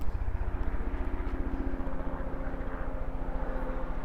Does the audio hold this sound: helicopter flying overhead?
yes